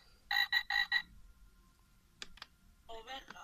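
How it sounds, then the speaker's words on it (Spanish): A toy frog in a musical box plays four quick electronic croaks in a row, followed by a couple of clicks and a short burst of a speaking voice. "Rana. Una rana."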